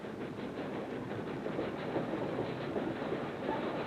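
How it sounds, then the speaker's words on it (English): A train runs along the rails with a steady, moderately distant rumble and a faint rhythmic clatter of wheels, continuing evenly throughout with no voices. "And they use trains."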